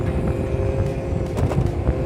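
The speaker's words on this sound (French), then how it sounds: "Un autre scooter ou une moto." A scooter or motorbike passes on a country road, heard as a steady low engine drone mixed with wind rumble from a riding scooter, with no clear rise or fall.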